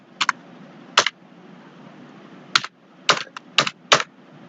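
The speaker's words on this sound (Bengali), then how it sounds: "আমি লিখে দিচ্ছি রাজশাহী।" Keys tapped on a computer keyboard while entering a location, a few sparse clicks in short clusters, close and crisp over a quiet room hum.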